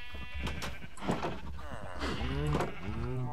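Minecraft cows moo and low close by in a survival world, several drawn-out bovine calls overlapping in quick succession while a man calls out to them.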